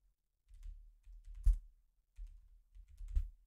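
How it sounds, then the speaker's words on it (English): Computer keyboard keys clack in short bursts as a seed phrase is typed, clustered taps with brief pauses and a couple of louder strikes, close and isolated in a quiet room. "And you would continue typing like this, putting a space in between each word until you've typed out all 12 words"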